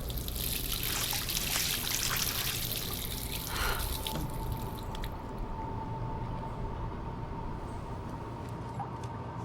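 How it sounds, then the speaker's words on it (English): Water splashing and trickling at a bathroom sink as someone rinses their face, loud bursty splashes for the first four seconds, then a quieter steady trickle from the tap. "Splash some water on your face."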